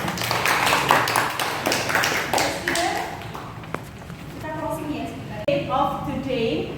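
Classroom applause for student groups, a dense patter of hand claps for about three seconds, then voices talking in the room with scattered taps.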